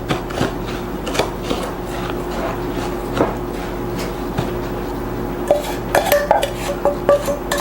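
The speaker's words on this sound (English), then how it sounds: "I'm adding my melted buttery spread, and I'm just going to mix this all together" Utensil scraping and clinking in a bowl while crisp topping is mixed with melted buttery spread for a blueberry crisp; steady close clatter with sharper knocks toward the end, no talking.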